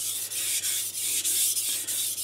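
Kitchen knife stroked across a soaked King G-45 220 grit whetstone, a close, gritty rubbing scrape repeated in even back-and-forth passes about every third of a second.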